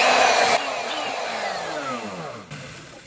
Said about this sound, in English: Start your router up in the air because they kick.